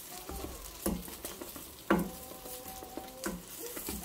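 Cheese buns fry in butter in a pan, giving a soft, steady sizzle close by, punctuated by a few light clinks and scrapes of a utensil.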